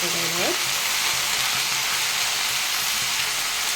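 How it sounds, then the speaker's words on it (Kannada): Tomatoes fry in hot oil for tomato gojju, a loud, constant sizzle that hisses without pause, with a brief voice at the very start. "ಅದೆಲ್ಲ ಚೆನ್ನಾಗಿ ಫ್ರೈ ಆಗಬೇಕು ಟೊಮೊಟೊ"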